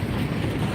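A Norfolk Southern freight train rolls past as a loud, steady low rumble, continuous and close.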